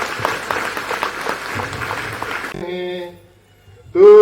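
A congregation at a Catholic Mass in Dodma, Torpa, Khunti claps in a dense, lively burst that stops abruptly after a few seconds. A sustained sung voice follows, then a louder voice starts.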